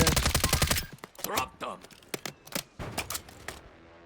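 Rapid bursts of automatic gunfire in the video game Call of Duty: Warzone crackle in quick succession, followed by scattered single shots, with a voice talking over them.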